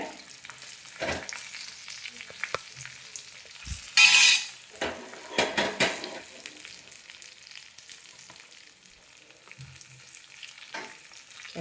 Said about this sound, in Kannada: ಎಣ್ಣೆ ಪಾಡ್ದು ಸಾಸಿವೆ ಜೀರಿಗೆ ಬೆಳ್ಳುಳ್ಳಿ ಕೆಂಪು ಮುಂಚಿ ಪೂರ ಪಾಡ್ದು ಒಗ್ಗರಣೆ ರೆಡಿ